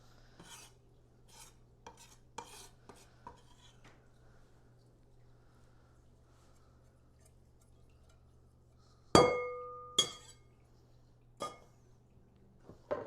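Shrimp paste being moved into a glass bowl in a kitchen, soft scraping taps followed by a few sharp, ringing clinks of utensil against glass near the end, close and otherwise quiet.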